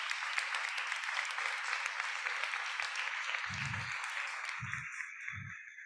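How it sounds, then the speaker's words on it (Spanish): Applause from a conference audience, a steady wash of many hands clapping that slowly fades toward the end, with a few soft low thumps near the close. "les voy a pedir a todos un aplauso por este esfuerzo que has hecho de estar desde allá"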